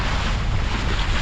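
Steady wind rushes over a Nacra 570 sailing catamaran at Kieler Woche, a loud, unbroken roar of air and water noise buffeting the microphone with no voices.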